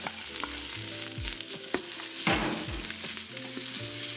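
Thinly sliced onions sautéing in a pan for egg biryani, a lively close sizzle with spatula scrapes and knocks against the pan.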